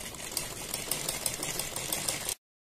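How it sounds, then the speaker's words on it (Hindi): Sewing machine stitching along a boat neckline beside buckram: a fast, steady mechanical whir with rapid needle clatter, close and continuous for about two seconds before stopping abruptly, with no speech. "हम बिल्कुल बुकरम के बराबर बराबर में सिलाई लगाते चले जाएंगे"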